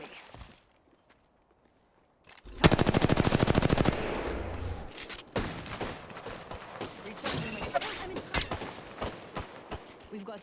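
Rapid automatic gunfire bursts out loud in an Apex Legends match, a dense rattling volley followed by scattered single shots, footsteps and mechanical clatter over a busy game mix.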